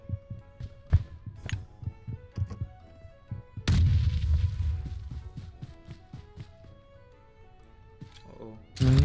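Bomb blasts pound a PUBG Mobile match in a repeated barrage of booming explosions, loud and close, with several heavier bursts over steady game noise while players talk.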